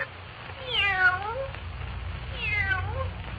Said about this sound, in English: to where Clark Kent stands holding the fawn-colored Siamese cat